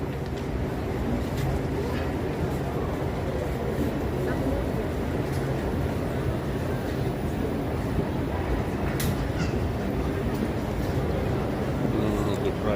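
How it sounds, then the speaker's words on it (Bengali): Steady low rumble and rolling noise of a double-decker train at a central station in the Netherlands, continuous and moderately loud throughout, with faint voices mixed into the background. "এই যে আমরা এখন ট্রেনে উঠছি"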